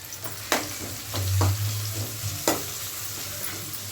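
Thinly sliced onions frying with turmeric and ginger-onion paste in a home kitchen, a steady close sizzle broken by several sharp spoon scrapes and stirring knocks, with no voices.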